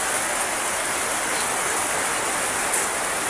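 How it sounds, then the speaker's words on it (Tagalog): Heavy rain falls in a dense, even roar of broadband hiss that holds steady for the whole stretch, loud and unbroken with no voices. "Maingay yung ulan."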